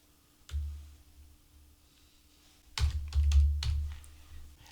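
Short bursts of typing on a computer keyboard, a brief cluster of clicks near the start, then a denser run of keystrokes after a pause, close and clear with no voices.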